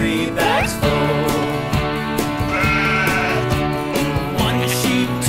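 Bleating sheep are mixed into a nursery rhyme song about a black sheep, short wavering bleats over bouncy rhythmic music and percussion.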